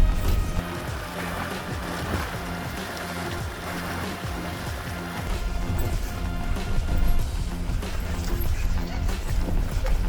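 A Suzuki Grand Vitara pushing through water at a ford on a rough track, with continuous heavy splashing and engine rumble, water sloshing against the body and bumps over rocks, loud and close throughout.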